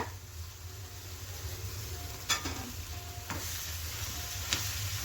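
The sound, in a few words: stirring and mixing potato masala filling for aloo paratha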